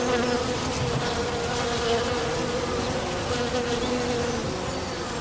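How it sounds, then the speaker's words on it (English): Many bees buzz steadily and close in a walled garden in East Lothian, a dense continuous drone with faint outdoor background and no talking. "I'm going to see if I can catch the bees because there's so many bees in my microphone inside"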